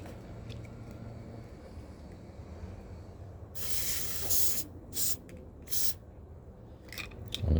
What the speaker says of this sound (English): Here we'll simply give it a little spray.